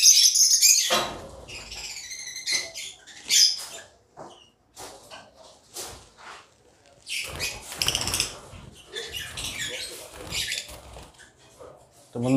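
Yellow Fischer's lovebirds in a cage give scattered shrill chirps and squawks with bursts of wing flapping and rustling, loud at first and then intermittent, while a person talks between the bird sounds.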